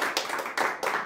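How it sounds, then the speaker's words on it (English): A few quick, close hand claps from a studio audience in a loose rhythm, bright and snappy, with no voices. "Round of applause for Kane, everyone."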